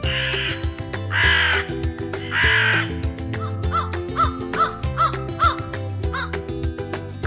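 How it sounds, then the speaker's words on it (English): Crows cawing loudly in a few harsh bursts, then a run of quieter, rapid calls, heard alone over a steady musical backing. "Crow."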